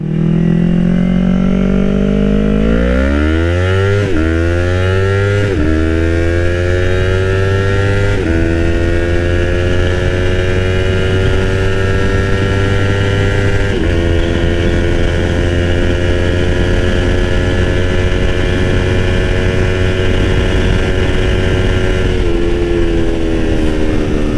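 A motorcycle fitted with a performance ECU swap is ridden on the open road, its engine revving up through gears in rising sweeps, then holding a loud steady drone with wind rush.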